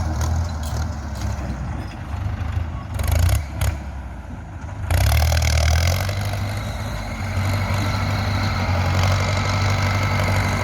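A Ford 6600 tractor engine runs steadily under load while pushing soil to fill a pond, a loud continuous low rumble that surges and grows heavier midway, with no talking.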